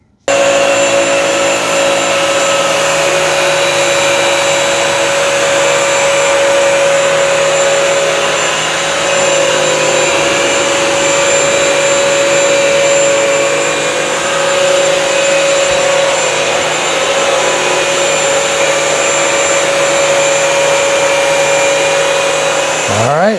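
A BISSELL CrossWave 1785A wet-dry vacuum runs continuously on hardwood floors, a loud steady motor whine with a sharp tonal hum and rushing airflow throughout.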